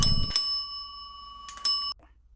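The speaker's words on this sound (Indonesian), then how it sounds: "Suara lonceng." A bell in a mystery narration rings twice with steady high tones, a struck attack at the start and another near the end, each sustaining and then cut off, over near silence with no talk.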